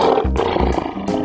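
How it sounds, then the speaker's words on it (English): Cartoon lion roars in quick succession, loud and close, with short rhythmic growling pulses. "Lion,"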